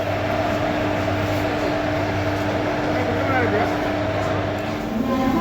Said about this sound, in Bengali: ট্রেন ছাড়ছে মুঘলসরাই জাংশন